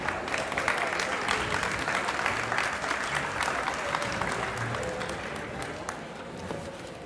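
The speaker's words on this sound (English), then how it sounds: "can please give him a big round of applause for joining us this evening" A crowd at a high school band spring concert applauds with dense, sustained clapping that stays lively before slowly tapering off toward the end.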